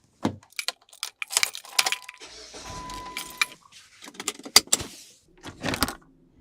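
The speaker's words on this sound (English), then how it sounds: "It's just the door, the keys." Keys jangle and a car door clunks in a short in-camera recording, with a few sharp metallic rattles and thuds spread across the clip and a brief mechanical whir in the middle, close and fairly loud, with no talking.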